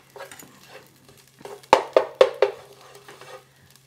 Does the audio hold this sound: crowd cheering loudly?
no